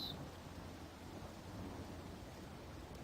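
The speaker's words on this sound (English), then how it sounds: "on the dark and raining streets of London" Rain and thunder fall on dark London streets in a detective visual novel game, a steady, dense wash of rainfall over a low, continuous rumble, with no voices.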